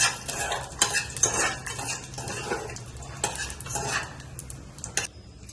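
Cashews and other ingredients frying in a pan for kara pongal, with repeated metal spoon scrapes and clinks against the pan over a low sizzle, close and busy.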